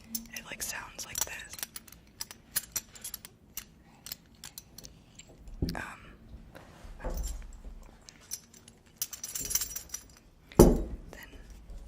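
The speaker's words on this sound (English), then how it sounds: "And so when you hear them chomping on the bit, it like sounds like this." A metal bridle bit jangles and clinks as a horse chomps on it, producing scattered light metallic chinks and taps at close range, with soft whispering in between.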